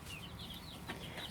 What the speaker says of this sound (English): 10 chicks and then 3 guineas